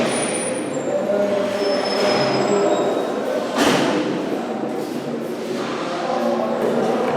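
A New York subway train rolls at the Transit Museum, a loud steady rumble with screeching wheels and a heavy thump partway through.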